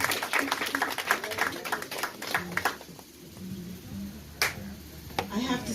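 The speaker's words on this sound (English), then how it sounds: "Give yourself a hand of applause." A church congregation claps during a Mother's Day service, a dense burst of hand claps for a couple of seconds that fades as a voice carries on talking, with a few stray claps later.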